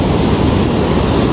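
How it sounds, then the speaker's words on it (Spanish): Rough sea surf at high tide, a steady broadband wash of churning waves close by with no break and no voices. "Todavía está el mar un poco grande, la marea."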